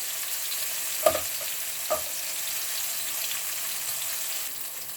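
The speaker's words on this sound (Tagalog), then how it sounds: "Then next na ilagay natin ay ang ating fried garlic." Fried garlic goes into a pan with tomato for an ampalaya, egg and tuna dish, a steady soft sizzle with two brief knocks of a spoon near the start, no talking.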